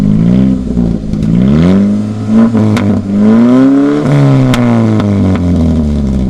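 A manual-transmission car engine revs in neutral, climbing and falling in pitch through several close, loud throttle blips that rise toward higher revs, with no speech over it.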